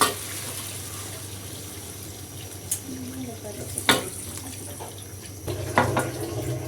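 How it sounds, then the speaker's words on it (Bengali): Water splashes into a pan of cooking catla fish, bringing brief pouring bursts and a clattering hit over a low steady simmering hum, fairly quiet and close. "কষাতে গেলে মাছগুলো ভেঙে যেতে পারে সেজন্য আমি পানি দিয়ে দিলাম"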